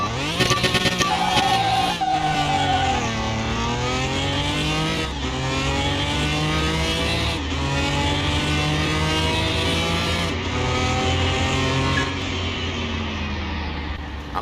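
A Dodge Viper drag racing in Car Mechanic Simulator 2021: a loud engine climbs in pitch, with a sharp break at each of several quick gear shifts as the car pulls hard, and no voices.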